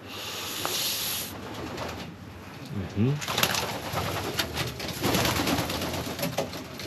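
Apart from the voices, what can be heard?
racing pigeons cooing in a loft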